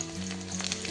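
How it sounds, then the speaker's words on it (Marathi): Garlic fries in hot oil in a pan, browning with a steady close sizzle and crackle over a brief moment, with no voice. "हे बघा, थोडंसं लसूण ब्राऊन होऊन द्यायचा."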